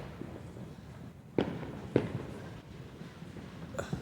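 Fireworks on Bonfire Night in Fullerton, California: a few sharp distant bangs, three or four isolated pops spaced about half a second to two seconds apart over a low ambient hum.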